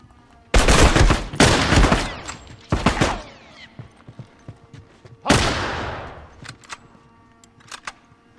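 Bursts of gunfire from The Last of Us, several loud broadband volleys in the first three seconds, a pause, then another heavy burst near the middle, trailing into scattered fainter shots.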